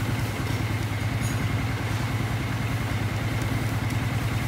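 A Yamaha Exciter motorcycle engine keeps running at a steady idle after its battery is removed, a continuous close low rumble with a fast even pulse throughout and no talking.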